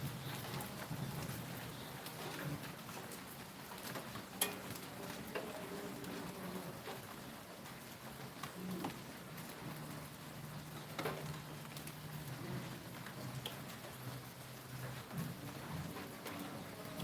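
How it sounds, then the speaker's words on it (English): Steady rain falls in Jamaica, a soft continuous hiss of drops on surfaces with a few faint taps and distant rumbles underneath, quiet and unbroken with no talking. "A little rain over here and a little rain over there."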